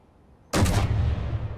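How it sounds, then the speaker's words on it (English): A sudden loud boom of a Mammoth Tank's cannons firing in a video game bursts out of near silence and rumbles on briefly. "All right, there's the cannons."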